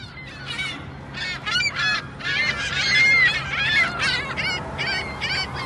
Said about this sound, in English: we're gonna feed the seagulls some bread. They sound like weird, like they sound like help, help.